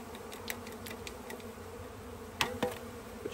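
A honey bee package being installed into a hive, with a dense steady buzz of many bees throughout and a few brief knocks and clatters near the end.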